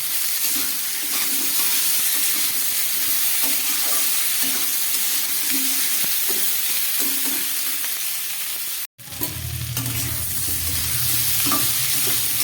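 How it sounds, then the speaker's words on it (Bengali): Half-boiled chickpeas and tomato pieces fry in a pan, a steady loud sizzle with stirring scrapes throughout, broken by a brief drop before a fresh, heavier hiss as more goes in. "ছোলা দিয়ে খুব ভালো করে একটু ভেজে নিলাম"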